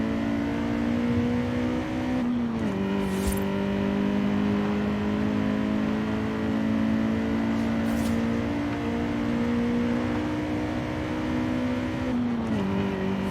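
Car engine in a driving video game, revving steadily at a high pitch and loud throughout, with a quick drop in pitch as it shifts gear twice, and no talk.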